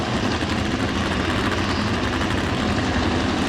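A two-cylinder drag racing motorcycle idles loudly and steadily at a drag strip before staging, a dense continuous engine rumble close by.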